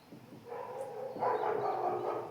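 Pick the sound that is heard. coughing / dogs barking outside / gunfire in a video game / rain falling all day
dogs barking outside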